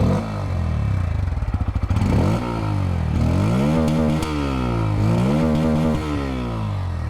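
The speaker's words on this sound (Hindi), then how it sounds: "चलिए अब दोनों ही बाइकों की जो यहाँ पर एग्जॉस्ट साउंड है वो सुनते हैं" A 2023 Bajaj Pulsar N160 E20 with an underbelly exhaust idles close by, then gets blipped several times. Each rev rises and falls in pitch over a rough, throbbing engine note.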